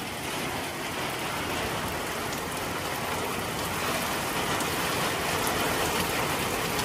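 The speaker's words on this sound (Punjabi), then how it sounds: "ਵੇਖੋ ਕਿੰਨੀ ਬਾਰਿਸ਼ ਹੋ ਗਈ।" Heavy rain falling in Oman, a dense, steady roar of downpour that is loud and constant throughout, with no voices.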